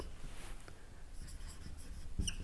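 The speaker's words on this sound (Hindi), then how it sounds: "तो चलिए अगर हम इसको बनाते हैं इनडायरेक्ट तो ऐसे लिखेंगे कि राम" Pen or marker writing on a board during a grammar lesson, soft scratchy strokes in short bursts, faint and close against quiet room noise.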